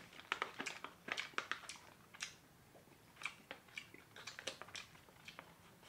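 Close-up chewing of Bearded brand beef jerky: wet, crunchy bites and mastication in an irregular rhythm of short bursts, loud and near, with no talking.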